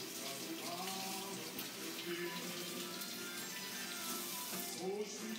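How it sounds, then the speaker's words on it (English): A kitchen faucet runs steadily as hands are washed beneath it, a soft continuous splash with small shifts in the flow, close by and fairly quiet, with no voices. "now let me wash my hand"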